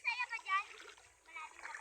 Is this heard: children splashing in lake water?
yes